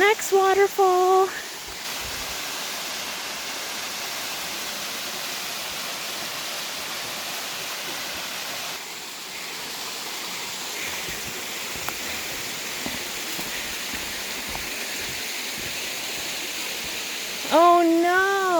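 A waterfall rushes as a steady, broad hiss that holds level throughout, with short bursts of talk at the start and again at the end.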